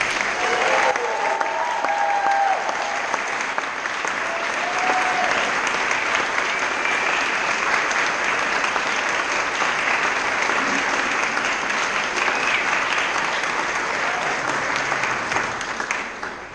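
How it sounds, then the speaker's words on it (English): Sustained applause from an audience at a farewell speech event fills the room, loud and steady from start to finish, with a few faint cheers and voices mixed into the clapping. "let's hear it for one more round of applause"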